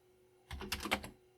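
A Commodore 64 keyboard is typed in a brief burst of about half a second, giving a few quick, close clacking keystrokes against a faint electrical hum.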